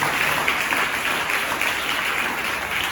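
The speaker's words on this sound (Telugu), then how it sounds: "చప్పట్లు కొట్టండి గట్టిగా" A church congregation claps loudly and steadily during a Sunday service, a dense continuous wash of many hands at close range with no one speaking over it.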